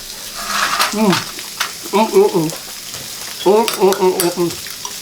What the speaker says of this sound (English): Because of the heat in the pan, it's going to continue to sizzle.